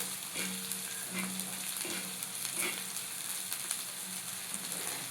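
Onion, green chili and ginger garlic paste fry in a pan for a masala omelette, a steady soft sizzle with a few light scraping stirs, close and alone without talk.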